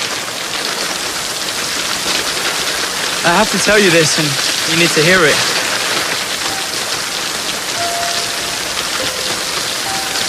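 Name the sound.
rain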